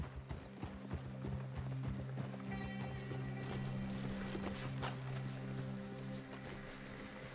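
Horses clip-clopping in Red Dead Redemption 2, a steady run of hoof beats with an occasional whinny over a low droning game soundscape throughout.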